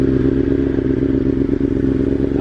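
A 2021 BMW S1000RR sport bike fitted with a titanium exhaust header idles loud and close, a dense, steady rumbling drone with faint mechanical clatter and no voices.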